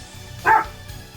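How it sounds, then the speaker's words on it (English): A pet dog gives one short, sharp bark close by, standing out alone against quiet room tone. "what you barking at?"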